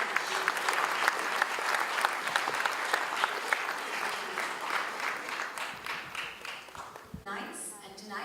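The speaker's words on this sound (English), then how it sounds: "Big round of applause for Ganesh." An audience at a health awards ceremony applauds, a dense, sustained clapping that carries on for several seconds before thinning out, with a voice coming in at the end.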